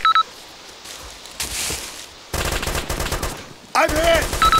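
Machine gun fire in the military shooter Arma II comes as a dense, close stretch of rapid shots, with quieter ambient gaps and electronic beeps on either side.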